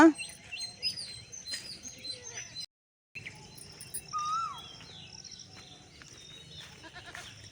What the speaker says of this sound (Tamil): இந்த குயிலை பாருங்களேன் கத்திக்கிட்டே கிடக்கு